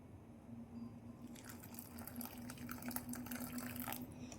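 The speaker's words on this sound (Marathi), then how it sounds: "लागेल तेवढे आता आपण यामध्ये गरम पाणी ऍड करूया" Hot water pours and splashes into a bowl of upma premix, a soft continuous trickling with faint drips, quiet and close, no voices.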